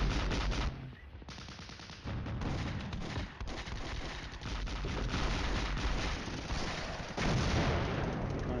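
Leopard tanks open fire in the Cold War wargame Flashpoint Campaigns, sustained rattling machine-gun bursts and gunfire rolling continuously at moderate distance, with brief gaps between volleys.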